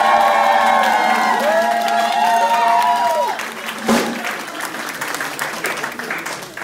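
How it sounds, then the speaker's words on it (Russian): Loud crowd applause and cheering for a dozen dancers after a Lindy hop jack-and-jill contest, with whoops and sustained vocal shouts over dense clapping that carries on steadily to the end. "И давайте еще раз бурные аплодисменты."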